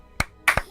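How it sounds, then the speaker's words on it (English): A few sharp, isolated hand claps close to the mic, two in quick succession after a single one, greeting a guest at the end of an online Dungeons & Dragons session. "How about a nice round of applause?"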